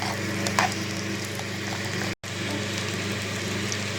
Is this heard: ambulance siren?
no